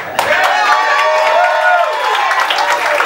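An audience at a stand-up comedy show claps and cheers, a dense, loud burst of applause with whoops and voices mixed in, sustained for several seconds.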